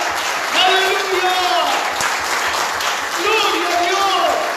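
A church congregation gives steady applause of praise, with the clapping heard beneath voices calling out and speaking over it throughout.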